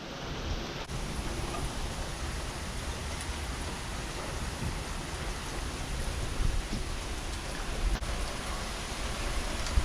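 Heavy rain and gusting wind from a severe thunderstorm on April 17, 2019, a dense steady roar that holds for the whole stretch and swells slightly toward the end, with no voices.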